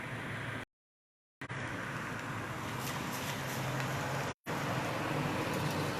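A blue car passes along a street while it rains, its tyre hiss and engine blending into steady broadband road noise with two brief dropouts in the sound.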